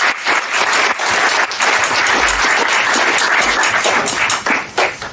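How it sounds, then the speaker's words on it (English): A live audience gives a loud, sustained round of applause, dense clapping from many people at close range that carries steadily for several seconds. "massive round of applause for Clive De Carle"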